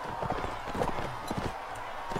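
Horse hooves clip-clop in a steady, brisk rhythm during Warsword Conquest gameplay, fairly loud and continuous over a low game backdrop.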